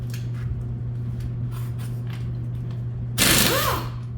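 Impact wrench working an axle shaft nut on a 2008 Dodge Grand Caravan, a loud burst of rattling hammering that lasts about half a second after quiet shop hum and a few faint mechanical clicks.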